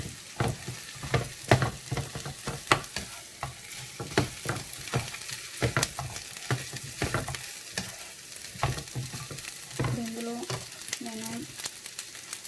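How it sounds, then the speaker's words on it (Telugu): Potatoes are added and mixed into a frying masala curry for dosa, bringing steady sizzling with rhythmic scraping and clacking of a spoon against the pan and a short stretch of talking near the end. "దుంపలు వేసి ఒక కలిపేసుకొని"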